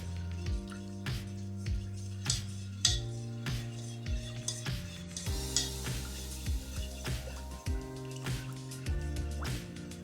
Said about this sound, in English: we'll go ahead and just stir it in, because the tomato paste, as you can see, is very, very thick